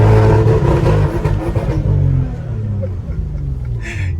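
A Maserati engine revs hard and close, a loud throaty roar that holds for about two seconds before easing into a lower, fading rumble as the car pulls away.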